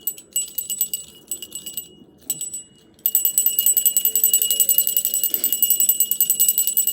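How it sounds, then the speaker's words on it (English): A small handheld ritual bell rings in quick repeated jingling bursts, briefly pausing before shaking continuously and loudly for several seconds, close by and alone. "I have also my bell here."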